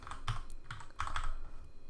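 Close, quick keystrokes on a computer keyboard while writing JavaScript code, falling in two short clustered bursts of clicky taps with no talking.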